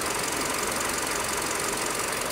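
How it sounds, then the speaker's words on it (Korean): Steady, even idle of a Hyundai YF Sonata LPI engine, a continuous close mechanical hum with a faint ticking knock running unchanged throughout, no voices. "굉장히 일정하게 엔진이 구동이 되고 있다는 거 확인하실 수 있고요"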